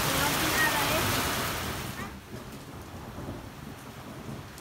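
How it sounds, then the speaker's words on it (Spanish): Steady rainfall during a storm in Valparaíso, Chile, heavy close hiss at first that softens into lighter patter after a couple of seconds. "it's raining"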